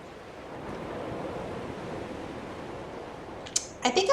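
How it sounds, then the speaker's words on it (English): Ocean waves wash against a Hebridean island shore in the game Dear Esther, a steady rolling surf with wind hiss, joined near the end by a few sharp, bright clicks or taps. "I like the ocean sounds"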